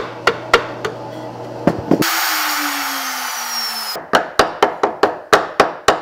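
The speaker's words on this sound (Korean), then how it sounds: "꼼꼼히 나무를 다듬고 손질하는 모습이 조금 특별한 가구를 만드는 듯한데" Hand-working and trimming wood in a workshop while building furniture: sharp wooden knocks and taps, then a couple of seconds of steady rasping or rubbing with a falling tone, then a quick series of close hammer-like strikes.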